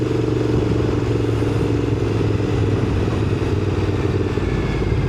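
Motorcycle on a road heard from the rider's position, a loud steady engine drone with a rough rumble, running evenly without a clear pitch change from a gear shift.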